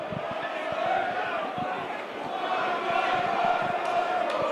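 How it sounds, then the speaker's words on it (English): A rugby league match crowd at Warrington roars steadily behind the play, a dense continuous swell of voices that rises slightly toward the end, with a commentator talking over it. "Crowd now starting to roar behind the ball to inspire them to charge forward"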